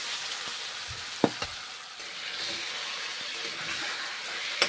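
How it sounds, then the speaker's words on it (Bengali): Mutton and spices frying in hot oil in a pan, a steady close sizzle with a few sharp stirring clacks and scrapes, no voices. "মশলা এবং মটন ভেজে নিচ্ছি, কষে নেব"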